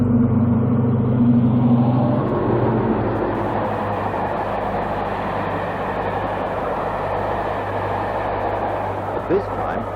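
A British diesel locomotive passes at speed through Grantham, producing a loud, sustained mechanical rumble and roar that holds steady and eases slightly toward the end.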